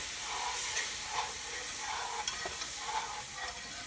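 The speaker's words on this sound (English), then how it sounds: "I am going to go ahead and slowly whisk in" Milk is whisked into a mushroom Parmesan sauce in a pan on the stovetop, a soft, steady sizzle broken by rhythmic whisk strokes and light clicks, fairly quiet and without speech.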